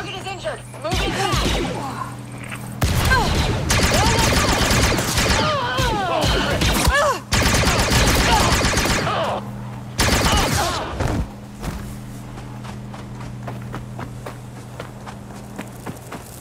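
Gunfire in a Star Wars Outlaws firefight, dense bursts of shots and impacts crackling over several seconds amid game effects and a low engine hum, with voices talking in between.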